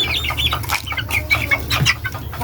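Chickens and young chicks clucking and peeping close by on a farm, a continuous overlapping chatter of short calls with higher chick cheeps on top.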